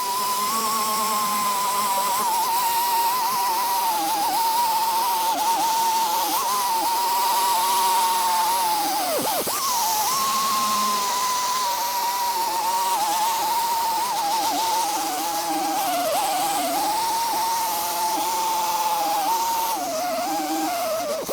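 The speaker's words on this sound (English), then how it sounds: "So I'm gonna use a grinding disc and we're gonna use a grinder air compressor." Pneumatic air grinder with a grinding disc working a car body panel, a loud, steady high whine held close for the whole stretch, its pitch dipping briefly once as the disc bites harder, with no talking.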